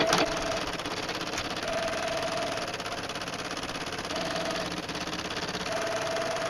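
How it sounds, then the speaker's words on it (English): An embroidery machine runs a basting stitch to hold fabric in the hoop, a steady close mechanical whir with rapid rhythmic needle pulses and a faint intermittent tone, no voices. "the first thing that's going to stitch out is a basting stitch for me"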